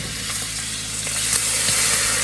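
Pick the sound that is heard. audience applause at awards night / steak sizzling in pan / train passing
steak sizzling in pan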